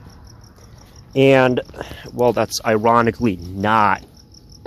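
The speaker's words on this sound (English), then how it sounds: "so you can actually hear some of those crickets outside" Crickets chirp outside at night during an evening walk. Their thin, steady chirping sits faint in the background while someone talks over it close up.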